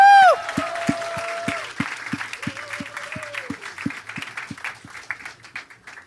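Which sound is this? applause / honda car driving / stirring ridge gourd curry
applause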